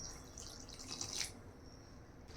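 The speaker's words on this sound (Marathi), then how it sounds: "पाणी टाकून हे छान भिजवून घ्यायचं आहे।" Water is poured from a vessel onto chopped coriander in a kitchen bowl, giving a short, soft, splashing trickle at close range that fades after about a second.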